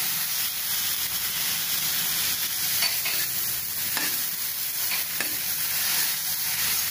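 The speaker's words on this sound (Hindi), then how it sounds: "इसको भूनना है हमको" Vegetables stir-fry with soy sauce for veg manchow soup, a loud, constant hissing sizzle close by with faint scrapes of stirring running through it.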